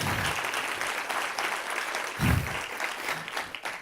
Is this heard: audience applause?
yes